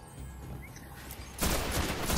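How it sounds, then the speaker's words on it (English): Gunfire from a co-op firefight in the video game Destiny at the Shrine of Oryx, a low rumbling under quieter game noise at first, then a loud dense burst of shots that grows over the last second. "Hard to tell who's shooting at who."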